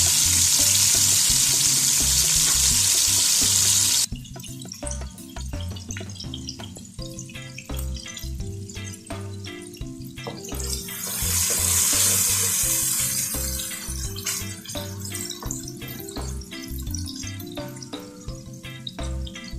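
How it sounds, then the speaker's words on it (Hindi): Loud, steady sizzling of onions frying in a hot pan for kadhi pakora, with occasional stirring clatter and bursts of hissing, no voices. "हम प्याज को सौते करेंगे"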